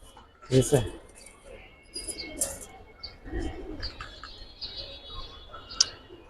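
Coloured fancy pigeons in a loft collection cooing softly in short low bursts, with faint chirps and ticking noises in the background, no talk over them.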